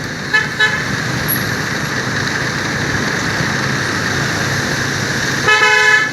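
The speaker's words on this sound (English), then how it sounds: "Truck's right behind me beeping." A truck horn beeps in short bursts near the start and again at the end, over a steady roar of road and engine noise on rough roads in Saigon.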